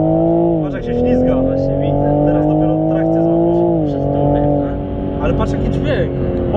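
A Toyota Supra sliding while driving, its engine droning loudly and steadily with a brief dip in pitch, tires hissing underneath and voices talking over it from inside the car.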